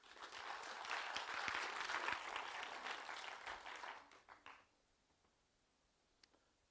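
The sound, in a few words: audience applause for a speaker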